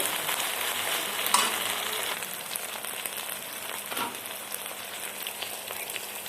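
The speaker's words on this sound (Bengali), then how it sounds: "টমেটো কুচি, আদা বাটা, গোটা জিরে আর গোটা ধনে বাটা। ভালো করে ভেজে নিচ্ছি।" Tomato, ginger paste and cumin-coriander paste fry in a pan for a mutton curry, giving a steady, close sizzle with occasional stirring scrapes and brief spatters throughout.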